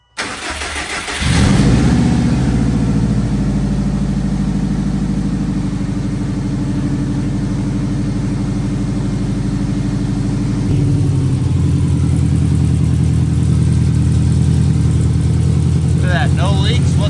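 A 2004 Subaru Forester XT cranks and fires up, then settles into a steady, loud close-up idle with a slight shift in tone partway through; a voice talks briefly over the running engine.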